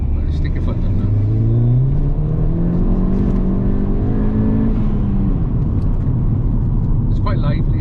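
A mountune MR265 tuned Ford Fiesta ST pulls hard under full throttle, its engine note climbing steadily through the revs from inside the cabin, steady and loud with a brief shift near the end.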